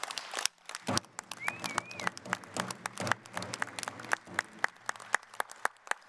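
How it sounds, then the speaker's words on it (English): Scattered clapping from a meeting audience of regional chiefs and leaders, a few dozen hands patting unevenly at close range, with faint murmuring voices underneath. "I just would like you to give them a round of applause."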